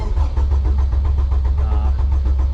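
A turbocharged Honda Civic EK making about 450 bhp cranks and catches, its engine note loud and steady with a deep rumbling low end throughout, no talking over it.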